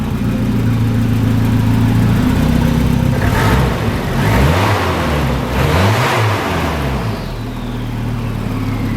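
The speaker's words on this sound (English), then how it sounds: "Woo, you can hear the turbo, that was cool." Close, loud Volvo 760 turbo engine idling, then revved several times in rising and falling sweeps before easing back to a steady idle, with a faint turbo whine over the engine.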